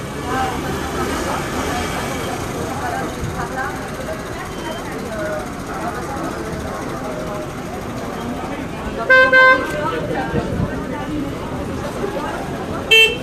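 Street traffic with cars waiting at a red light during a night street gathering in France: a continuous rumbling city bed under people talking, with two short horn toots near the end.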